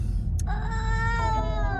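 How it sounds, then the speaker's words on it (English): A cat meows once, a drawn-out, wavering cry standing clearly above a low rumbling background noise. "We got the kitties."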